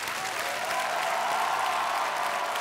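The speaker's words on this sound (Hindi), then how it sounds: "तालियां बजती रहनी चाहिए देवी और सजनों।" Studio audience applause on the set of the Hindi quiz show Kaun Banega Crorepati, a steady, dense wash of clapping that fills the whole stretch at even loudness with no voices over it.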